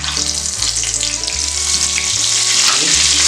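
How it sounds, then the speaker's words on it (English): Baby quail eggs wrapped in glass noodles deep-fry for a second time in hot oil, a loud, continuous crackling sizzle close up with a low steady hum underneath. "If you want our food crispy, you have to deep fry 2 times. This one is second time."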